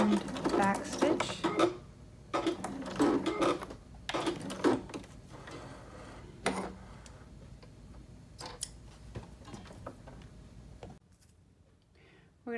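Sewing machine back stitching through elastic on a fabric Kindle holder, with short bursts of rapid mechanical stitching separated by pauses, close and moderately loud, with some talk between runs.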